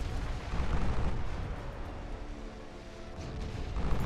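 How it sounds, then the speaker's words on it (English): Deep rumbling blasts and booming explosions from a naval combat video game, a continuous low roar of detonations with a swell near the end and no talk over it. "Can I fire torpedoes, please?"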